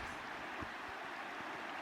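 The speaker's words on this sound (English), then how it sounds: "I like the sound of the water" A stream flows near a campsite at Painted Hills, Oregon, a soft continuous wash of rushing water, quiet and steady, with faint low rumbles and no voices.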